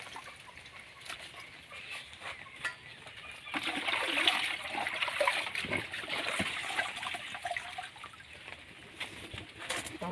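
Ingredients being washed by hand in water make faint, irregular splashes and trickles, with birds chirping nearby and a voice at times.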